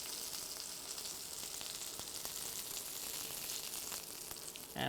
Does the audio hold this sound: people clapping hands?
no